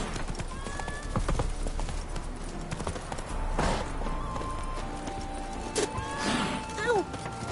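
Roach, a horse in The Witcher 3, gallops with rhythmic hoof clip-clops, joined by a whinny and a sharp thud near the end, over in-game background sound and brief voices.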